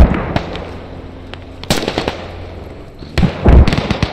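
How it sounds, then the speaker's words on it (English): Rocket fire explosions in the military shooter game Squad, several sharp cracking blasts and pops scattered over a low rumbling background, loud and close. "We are taking rocket fire."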